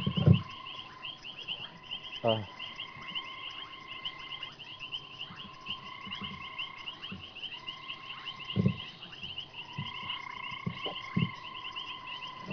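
Frogs, including a grey tree frog, call at a pond at night in a dense chorus of repeated trilling and croaking, with louder nearby croaks breaking through every few seconds.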